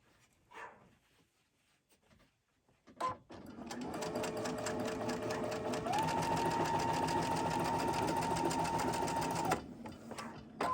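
A sewing machine runs steadily for several seconds with a rapid, even stitching rattle, preceded by a few soft handling noises and a short burst.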